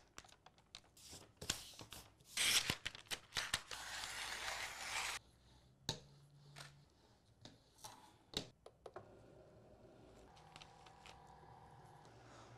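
A cutting machine cuts bat shapes from material on its mat with faint mechanical whirring, rattling and irregular clicks, busiest early on, then sparser clicks and taps.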